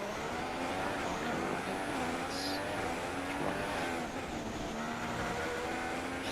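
Ferrari Formula 1 car engine in the F1 16 racing video game, a steady, loud, high-revving buzzing drone that holds continuously with slight pitch shifts throughout.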